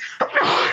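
A single short human sneeze bursts out sharply near the mic, with a quick catch of breath followed by a drawn-out voiced tail.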